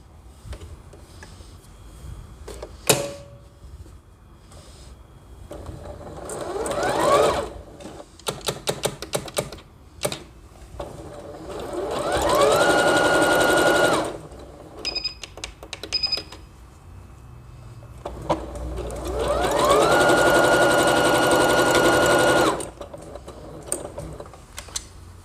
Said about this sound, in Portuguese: eu vou passar ele todo, só passando uma costura reta para segurar,